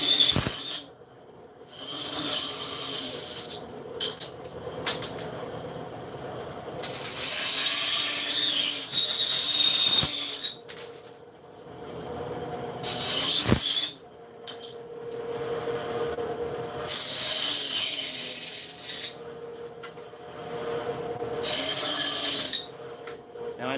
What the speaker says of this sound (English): that bandsaw is it really never spits any aluminum at me